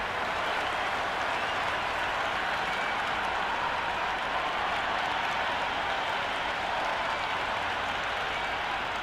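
A cricket stadium crowd at a PSL match between Rawalpindiz and Karachi Kings in Lahore cheers and applauds. The roar is a steady, dense wash of clapping and voices that holds at full strength throughout.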